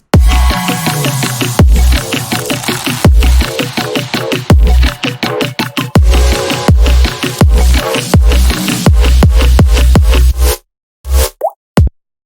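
A pre-drop in an electronic track, built with glitch fills from the Fracture plugin, hammers out loud, dense stuttering hits and chopped bursts in an uneven rhythm, cutting to near silence and a few final stabs at the end.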